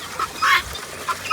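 Ducks on an open organic farm quack in short, loud bursts close by, several calls spaced irregularly with brief pauses between them, heard alone without talk.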